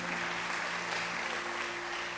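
Applause from a church congregation for its life group leaders, a steady, faint wash of clapping that holds evenly for a couple of seconds with a low hum underneath.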